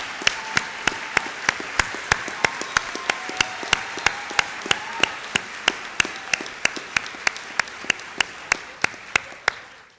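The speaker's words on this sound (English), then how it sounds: "Let's give you a round of applause." Steady audience applause at a college commencement ceremony, many hands clapping together, sharp regular claps standing out over a dense wash, fading out at the end.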